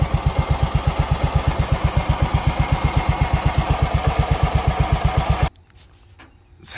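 A John Deere 160 lawn tractor engine runs at close range with a steady, loud, thumping idle that won't shut off, then cuts out abruptly, leaving faint quiet.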